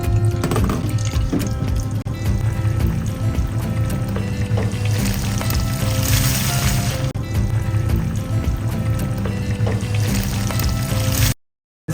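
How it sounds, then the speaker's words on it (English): Cubes of cottage cheese (paneer) frying in a pan, a dense, steady hiss and sizzle that holds loud for about eleven seconds and then cuts off abruptly. No one speaks. "I'm gonna fry cottage cheese now."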